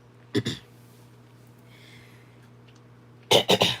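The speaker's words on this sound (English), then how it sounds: "I have been like coughing a little bit" Two quick coughs, a pause with quiet breathing, then a louder burst of three dry coughs close by.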